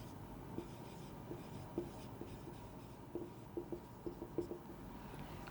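A pen scratches on paper as figures are written out by hand, quiet and close, with short irregular strokes and small taps in an otherwise hushed room.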